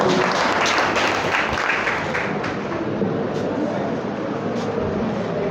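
Audience applause welcoming a speaker onto the stage at a spiritual talk on meditation, a dense, steady wash of many hands clapping that holds evenly at close range and fades only slightly toward the end.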